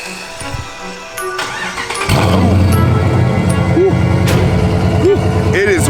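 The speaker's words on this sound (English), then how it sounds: "we're gonna go ahead and hit y'all with the cold start" A Mercedes race car with new headers cold-starts, cranking then catching into a loud, steady, rumbling idle with occasional revs, close by, with some talk over the start.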